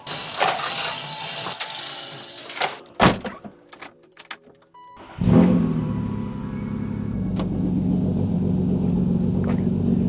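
A BMW M Coupe engine rumbles steadily at close range as the car is moved out, after a few sharp door-like clunks and a brief quiet spell.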